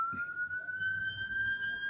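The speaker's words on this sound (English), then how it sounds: "What was a fire engine or an ambulance?" A fire engine or ambulance siren wails in the distance, a steady rising tone held faint but clear over low background rumble and muffled room noise.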